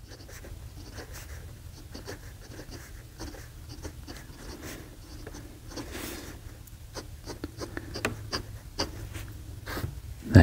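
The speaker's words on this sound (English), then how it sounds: "I'm going to be quiet and let you hear how smoothly this writes" An AmazonBasics fountain pen writes on paper, giving a close, soft scratching and rubbing of nib strokes in short irregular bursts, with no talking.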